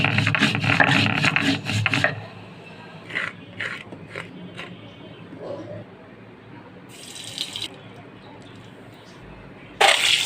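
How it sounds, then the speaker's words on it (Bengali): Spices ground by hand on a grinding stone, with rhythmic rasping strokes, loud and steady for the first couple of seconds, then scattered scrapes and softer rubbing, plus a few sharp bright scrapes near the end. "মশলাগুলো বেটে নিব"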